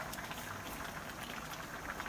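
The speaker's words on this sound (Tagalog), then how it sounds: "Yan, kumukulo na." Steady bubbling and hissing of water at a rolling boil in a cooking pot, close and continuous with no other sounds.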